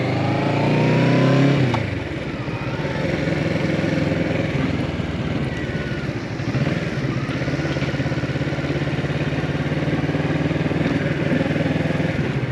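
A 2022 Kawasaki Z650 rides along with a steady, close engine drone and rushing wind, the pitch shifting slightly as the throttle changes after a brief rev at the start.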